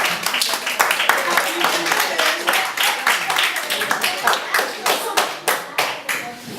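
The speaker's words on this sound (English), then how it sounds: "A cup of applause for him." A small audience claps in a classroom-style talk, distinct individual claps rippling close and uneven over several seconds, with people talking over it.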